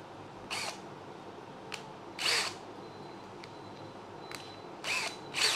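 A Ballorex KS-21VD brushless cordless drill fitted with a socket holder, tightening a socket: several short, close whirring bursts separated by quiet pauses, with a faint click in between.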